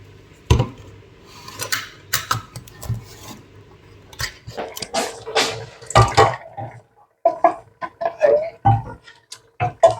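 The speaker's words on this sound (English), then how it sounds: "I'm going to add an Italian style tomato, chopped tomato with oregano and basil" Chopped Italian-style tomatoes with oregano and basil go into a vegetable soup pot in a kitchen, with close metal spoon clinks and scrapes against the pot and soft wet plops in irregular bursts.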